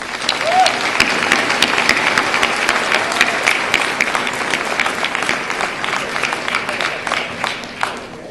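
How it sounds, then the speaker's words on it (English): A graduation crowd at a spring commencement ceremony claps for parents, families and friends: sustained, dense applause from many hands, loud and continuous throughout, with no speech over it. "please give the parents, families, and friends gathered here today a round of applause"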